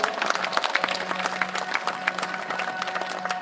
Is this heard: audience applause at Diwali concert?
yes